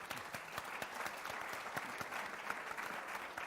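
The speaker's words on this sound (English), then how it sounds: "can I please have another round of applause for our panel?" A conference audience applauds a panel after a debate session, steady even clapping that carries on throughout, moderately distant and fairly quiet.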